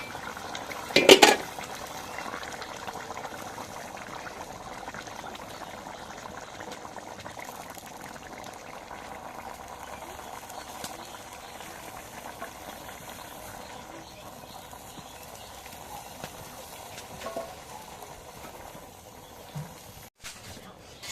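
Bottle gourd greens tumble into a pot of simmering potato and dried fish curry, bringing a brief clatter near the start, then a steady low bubbling and faint utensil clinks at close range.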